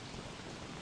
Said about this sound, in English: it's really coming down, but this umbrella is keeping me dry